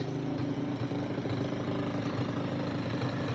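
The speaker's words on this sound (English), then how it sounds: "All right, she's idling." An older engine that had been hard to start idles steadily and close by, with a low, even throb and no talking over it.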